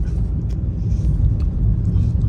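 Road traffic stuck in a full jam in Maharashtra around Navratri, heard as a dense, steady low rumble of idling engines that runs unbroken for the whole stretch, fairly loud and close.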